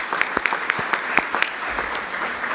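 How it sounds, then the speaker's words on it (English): Brief scattered clapping at a Hispanic Heritage program in Paterson, New Jersey, a handful of sharp distinct claps from a small group, fairly faint and uneven. "we can give him a round of applause"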